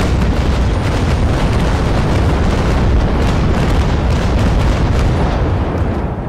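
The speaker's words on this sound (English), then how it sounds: "And this was a very nice broadside, if I do say so myself." A broadside from a ship's cannons in Naval Action, fired by the Santissima, a massive warship, as a sustained, loud barrage of deep booming shots rolling continuously with heavy low rumble and no talk.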